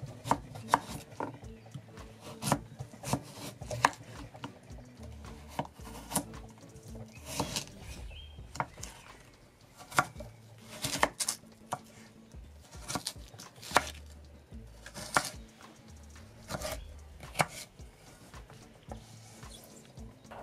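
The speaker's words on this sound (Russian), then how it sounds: "Нарезаем крупными брусочками." A knife chops carrots into sticks steadily on a cutting board, firm regular thunks in short runs with brief pauses, close and clear, no voices.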